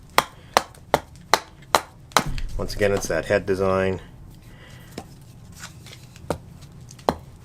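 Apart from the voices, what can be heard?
Fiskars 14 inch axe chopping wood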